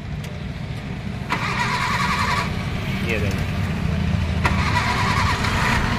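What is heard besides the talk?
Maruti Suzuki Eeco van engine starting after overhaul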